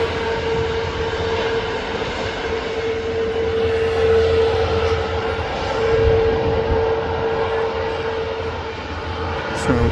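A fixed-wing airliner at Manchester Airport runway gives a steady, loud engine drone with a sustained whine, swelling slightly and then easing, heard from the runway visitor park.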